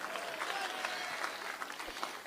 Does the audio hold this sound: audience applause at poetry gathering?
yes